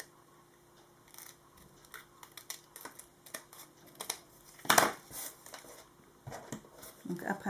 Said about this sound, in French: on vient couper tout ce qui dépasse.